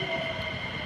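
A train pulling into a station in Japan, a steady low rumble with a high metallic whine from the wheels, heard close and continuous for a brief moment.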